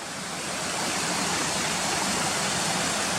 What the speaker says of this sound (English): look through this tunnel where the water's going underneath the railway lines